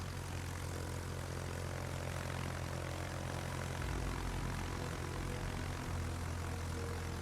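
Carrier aircraft engines drone steadily in World of Warships, a continuous low propeller hum from a Japanese Hakuryu carrier's planes, faint and unbroken, with no talking.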